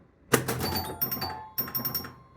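Chimes ringing on a Knight Rider pinball machine: three bright struck tones, one after another, each with a lingering metallic ring and smaller notes in between, heard clearly with no talking.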